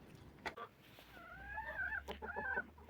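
Hens cluck and call in a summer chicken coop, several short bursts and a couple of drawn-out squawks at close range over a low background rumble, with no talking.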